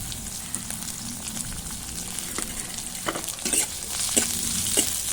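Chopped onion, crushed garlic and two dried red chillies frying in oil, a close steady sizzle with a few brief stirring scrapes and spits.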